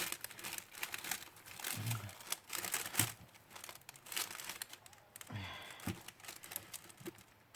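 Paper crinkles and crumples by hand in repeated bursts of crackling, close and soft, with occasional low rustles.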